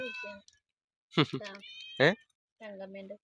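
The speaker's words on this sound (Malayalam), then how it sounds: "പൂച്ച കരഞ്ഞോണ്ട് കൊടുക്കുന്നുണ്ടല്ല" A domestic cat meows several times close by, with drawn-out, wavering cries separated by short pauses, while voices are also present.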